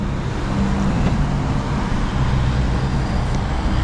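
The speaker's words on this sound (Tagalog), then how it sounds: "Ragasaan yung mga truck, oh." Trucks rush past on a cold, misty mountain road in Japan, a loud continuous roar of heavy traffic close by with no talk.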